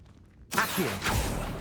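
Accio summoning spell cast in the video game Hogwarts Legacy: after a moment of near silence, a sudden bright whoosh swells up and rushes on for about a second.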